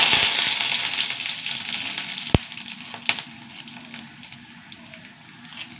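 Mustard and fenugreek seeds hit hot oil in a pan, giving a loud crackling sizzle that fades gradually, with a couple of sharp pops along the way.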